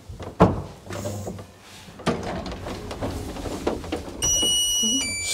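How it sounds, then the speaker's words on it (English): A hotel room door at the Mercure Inn in Bayonne, France, closes with a sharp thud, followed by further bumps and handling noises, heard close by amid room ambience, ending in a steady electronic tone. "you got to close the door"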